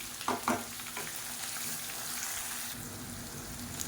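Onion, garlic and green chillies sauté in hot oil for a Tamil fish curry, giving a steady close sizzle with a couple of brief stirring knocks early on and no talking.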